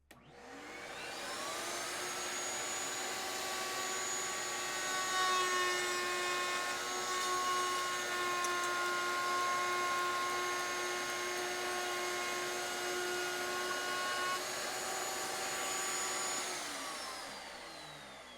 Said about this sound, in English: Put a little chamfer on the end of this block. This is just straight red oak.